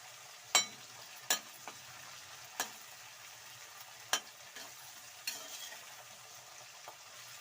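Tomatoes frying in a pan for vegetable rice bath, a soft steady sizzle with a few sharp clicks of a stirring spoon against the pan, close but quiet.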